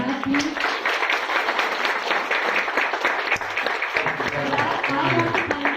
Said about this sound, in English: please can we all give a huge round of applause for Brad, please?